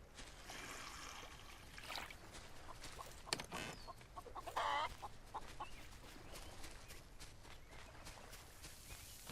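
Chickens in a solarpunk farming video game cluck in short, faint bursts over a soft trickling ambience, with brief louder clucks partway through.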